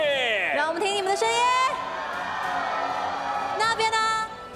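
An arena crowd at an Honor of Kings esports group-stage event cheers and whoops loudly, with rising and falling shouts that fill the whole stretch.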